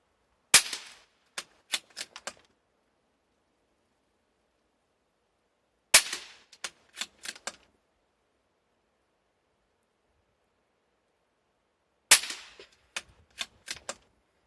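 A rifle fires CCI 22 Quiet .22 LR subsonic rounds at a 25-yard range, giving faint, sharp cracks in three clusters of four or five shots each, separated by long silences, with no voices.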